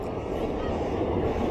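The Ernad Express arrives at a station platform behind a WAP-4 electric locomotive, a loud, close, low rumble of rolling wheels and carriages that holds steady throughout.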